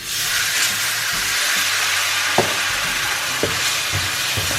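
Loud, steady hissing sizzle as a little water is added to frying spice masala for egg fry in a pan, broken by a few soft scrapes and knocks of a stirring utensil.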